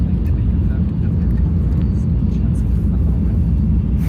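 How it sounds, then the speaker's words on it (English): A Japanese train in Japan fills the space with a loud, steady low roar and whir much like an airplane cabin, constant throughout with faint voices underneath. "The trains are actually kind of loud."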